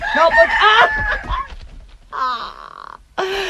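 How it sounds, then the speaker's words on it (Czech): A rooster crows nearby in a Czech radio play, in strained, wavering calls, with short pauses between them. "zatracený kohout."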